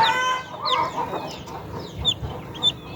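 Chickens, with newly hatched Tiger and Sonali chicks, cluck and chirp close by in short bursts, with higher peeping calls scattered throughout.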